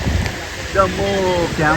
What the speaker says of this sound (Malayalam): കരിമ്പിൽ നമ്മുടെ കക്കാട് കരിമ്പിൽ നല്ല കനത്ത മഴ